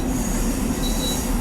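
MTA M7A electric multiple unit running on the Harlem Line in Train Sim World 5, a steady, loud rolling rumble of wheels and rail with a sustained hum and a faint high squeal partway through, no voices.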